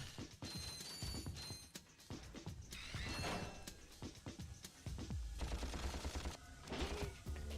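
Rapid-fire weapon bursts in Ratchet & Clank, clattering mechanical shots in quick runs mixed with metallic clanks and whirring game effects, close and busy, with no talking.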